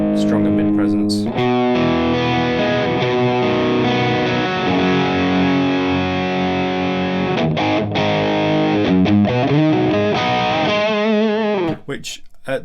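Distorted electric guitar chords ring out through a Fender Hammertone Overdrive pedal with strong mid presence, sustained and loud, with a brief pause and a few final strums at the end.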